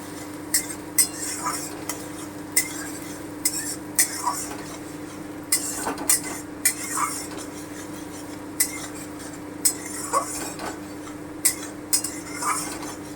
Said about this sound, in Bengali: পেঁয়াজ কুচিটা দিয়ে আমি একটু ভেজে নিই হালকা করে একটু ভেজে নেবো